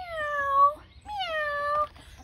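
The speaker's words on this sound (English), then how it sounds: "That little cat went meow, meow." A cat meows twice in quick succession, two clear drawn-out cries close by, the second a little longer than the first.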